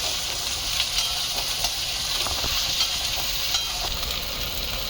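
Curry leaves and other seasonings frying in oil in a pan, a steady loud crackling sizzle throughout with scattered sharper pops and faint stirring scrapes.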